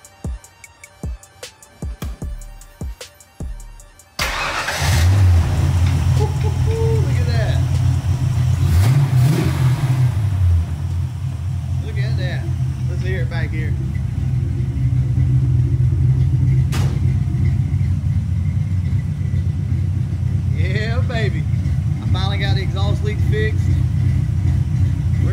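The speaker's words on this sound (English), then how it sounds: "hopefully this thing will start up just touching the key" A 5.0 project car engine, its exhaust leak freshly repaired, cranks and fires after a few quiet seconds, then settles into a loud, deep rumble with occasional revs, heard up close with faint talk.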